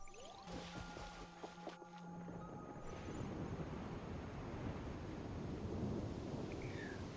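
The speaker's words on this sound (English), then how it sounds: "So this is the storm that Karma talked about" Stormy weather in Genshin Impact: a broad, steady roar of wind and rumbling swells up and stays loud and close after some tonal game sounds fade, with no voices.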